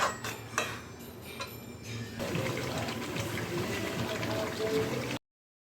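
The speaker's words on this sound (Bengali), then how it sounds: "জল দিয়ে দেবো।" Water is poured into a pot of mutton curry with potatoes. After a few clinks, a steady rushing, splashing pour starts and runs for about three seconds before stopping abruptly.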